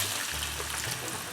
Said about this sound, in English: I'm actually going to add 1 cup of water to this